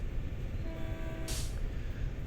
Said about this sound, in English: this is what the horn sounds like from inside for real